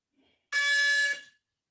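A single electronic fitness-test beep for the 30-15 intermittent shuttle run, sounding once for about three-quarters of a second, loud and clear against silence.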